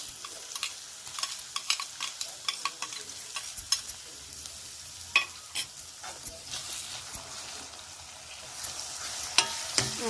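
Ginger, garlic and chili paste frying in a pan for egg curry, a soft continuous sizzle punctuated by irregular metallic clinks of a spoon stirring against the pan, close and fairly quiet.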